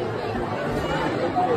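A large crowd of devotees waiting in the queue at Ekvira temple, a steady, close hubbub of many overlapping voices chattering without pause.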